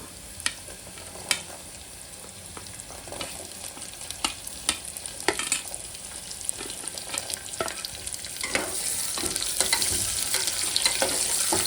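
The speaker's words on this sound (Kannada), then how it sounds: "ಫ್ರೈ ಮಾಡಿಕೊಂಡು ಬೀನ್ಸು ಆಲೂಗಡ್ಡೆ ಕ್ಯಾರೆಟು ಹಾಕೋಬೇಕು" Beans, potato and carrot frying in oil in a pan, with a steady sizzle punctuated by repeated sharp scrapes and clacks of a spatula stirring, the frying growing louder toward the end.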